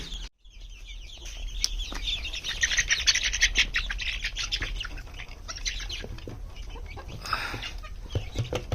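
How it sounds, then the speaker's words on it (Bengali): A flock of chickens clucks and squawks nearby, with chirps and busy rustling layered over a steady background hum. "এখানেও কিছু মুরগি আছে"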